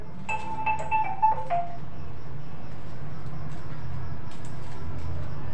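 A short electronic phone ringtone-like melody of a few tonal beeps rings out early over steady room hum in a classroom setting, then fades into background noise.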